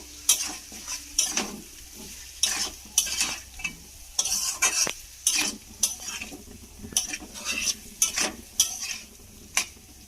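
Tomato and green chillies stir in a pan of fish curry with cauliflower and ground spice paste, giving a soft sizzle under repeated scraping and clinking of a spoon against the pan.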